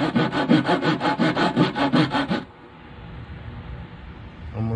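A hand saw cuts through wood during a Japanese gottan instrument build, with about a dozen steady back-and-forth strokes up close. The sawing then stops, leaving quiet room noise.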